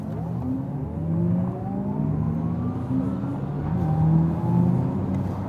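An Audi e-tron GT electric car launching hard under launch control in dynamic mode, a steady rising electric whine with climbing tones and road rumble throughout, fairly quiet overall and without engine roar.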